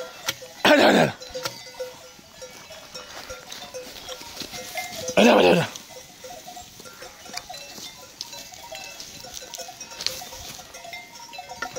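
A flock of sheep grazing in a highland pasture among pine trees gives two loud, close bleats, several seconds apart, over a low outdoor background.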